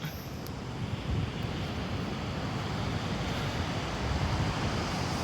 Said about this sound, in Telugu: ఇది బీచ్ ఎక్కడంటే విశాఖపట్నం దగ్గరలో తుని, నక్కపల్లి మండలం